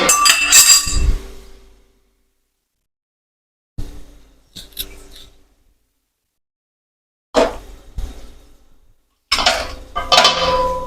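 A lid set over a cooking pot of simmering brinjal curry clanks and clinks in a few separate bursts of metallic rattling, close and fairly loud, with short silences between them.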